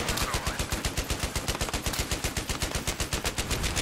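Rapid, steady machine gun bursts from an MG fire in a combat video game, loud and close, with sharp regular shots repeating for the whole stretch.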